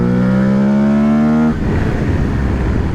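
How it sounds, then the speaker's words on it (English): Aprilia Tuareg 660 motorcycle pulling a second-gear roll-on, a loud close engine note rising steadily in pitch for about a second and a half, then breaking into rough rumbling wind and road roar. "2nd gear roll on."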